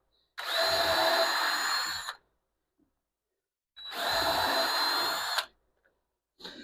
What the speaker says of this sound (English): pre-drill my holes right in the middle.